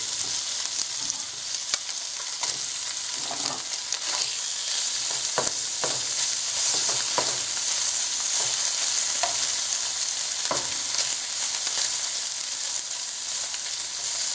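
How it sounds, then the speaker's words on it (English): Strips of seared tofu fry in oil in a hot pan, giving a steady close sizzle and hiss throughout, broken by occasional crackles and light stirring taps. "Pan fry the tofu until it's a little bit crispy on the sides."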